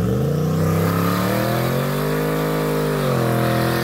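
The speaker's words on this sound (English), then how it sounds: "this truck did a really, really good burnout" Drag racing truck doing a burnout at a test-and-tune event: a loud, close engine roar held at high revs, with a steady pitch that dips slightly and then climbs again near the end.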